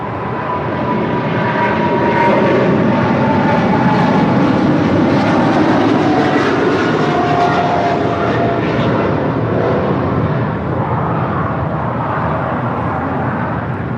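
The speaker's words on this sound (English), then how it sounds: "This is China Cargo Airlines, Cargo King 224 departing to Shanghai on a 777 freighter." A China Cargo Airlines Boeing 777 freighter departs, its engines building into a loud, sustained roar that swells and then holds steady for the whole stretch, with no voices.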